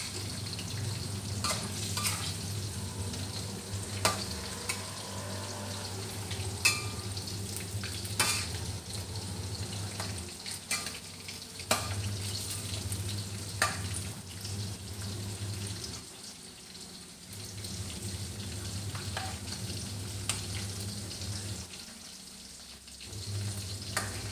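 Chicken frying in oil over medium heat gives a steady sizzle with scraping stirs and occasional sharp clacks of a utensil against the pan, close and continuous, with a low hum underneath.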